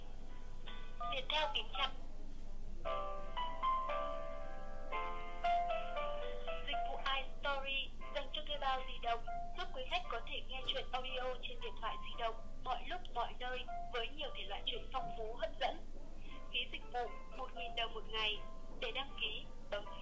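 Call-connection tones and a quick run of phone keypad beeps sound on a call to the 1800 8198 service hotline. They are fairly clear, and a voice talks throughout.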